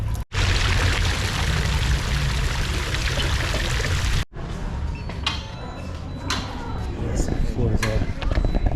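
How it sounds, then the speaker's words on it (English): A kangaroo statue fountain in Ljubljana, Slovenia spits water from its mouth into its pouch, making a loud, steady pouring splash that stops abruptly partway through. Afterwards come quieter clicks and handling sounds. "you push this, and it starts spitting water out of its mouth into its pouch"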